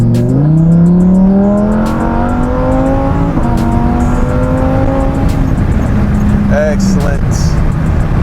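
Car accelerating hard and shifting rapidly up through its transmission's gears on a short pull, with loud engine tones rising then dropping at each shift, heard from inside under people talking.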